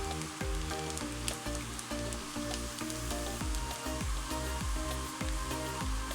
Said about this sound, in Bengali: পেঁয়াজগুলোকে একটু লালচে করে ভেজে নিচ্ছি